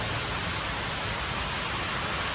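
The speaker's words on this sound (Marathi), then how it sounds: "पाऊस म्हणजे वारा पाऊस कसला येता बघा." Constant broadband hiss of heavy rain and wind, steady and even throughout with no voices.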